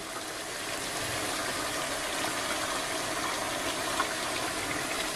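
Hot water poured into a pot of homemade sauce, a steady gushing, splashing pour heard close up and alone for several seconds.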